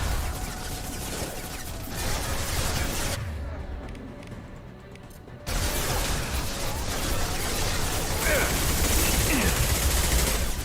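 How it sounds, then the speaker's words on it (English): Assault rifle fire in the video game Mass Effect 2, rapid sustained bursts of dense shooting with a short quieter lull in the middle, then continuous heavy gunfire amid battle noise. "I think my assault rifle just doesn't do enough damage."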